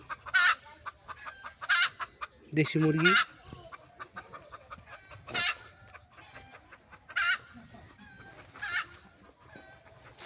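Native village hens cluck in short, loud bursts close by on a winter morning near mustard fields, with one longer throaty squawk; pauses of quiet fall between the calls.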